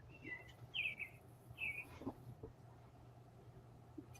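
A few bright bird chirps ring out outdoors, two short clear tweets close together then a softer call, over a faint low hum with long quiet gaps.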